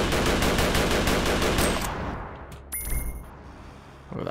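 Rapid automatic gunfire from the video game Cortex Command rattles in a dense burst, then cuts off, followed by a few sharp electronic tones and scattered game effects.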